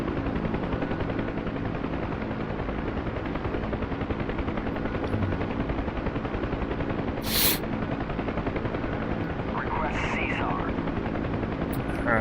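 Chinook helicopter in a combat search-and-rescue video game, a loud steady rotor drone that fills the whole stretch, with a brief sharp burst and faint distant sounds over it and people talking.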